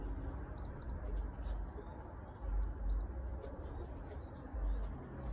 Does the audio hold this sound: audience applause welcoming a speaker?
no